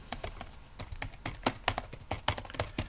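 Quick, uneven run of close key taps on an English-layout computer keyboard, crisp clicks falling in short bursts with no speech over them.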